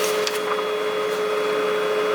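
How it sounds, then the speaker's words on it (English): Office inkjet-style printer printing out a page, a steady mechanical whir and hum with faint clicks running throughout at close range, no talking. "It's showing me how to fix the printer by printing something out."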